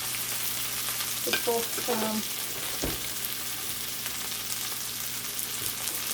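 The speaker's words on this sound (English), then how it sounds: "so this is sauteing right now." Vegetables saute in a pan with a steady, even sizzle and hiss that runs throughout, while someone speaks briefly over it near the start.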